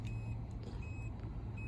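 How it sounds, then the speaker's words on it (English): A 2026 GMC Terrain Denali's liftgate proximity sensor sounds three evenly spaced high electronic beeps over a low idling-engine hum outdoors. "so you get close to it, they use a proximity sensor. 3 beeps."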